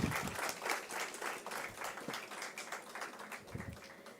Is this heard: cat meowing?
no